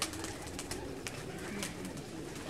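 A Teddy Rampuri pigeon coos softly and continuously at close range amid a busy, noisy loft background with scattered sharp clicks.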